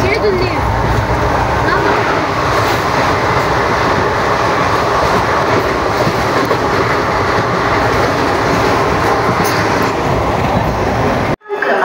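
A train runs with a loud, steady, close rumble and rattle from inside the carriage, and voices can be heard faintly under the din.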